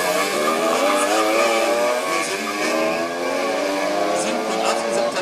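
Kart racing team's presentation run on a track at a Brandenburg motorsport meet, with steady loud engine drone and tire squeal continuing throughout, and voices over it.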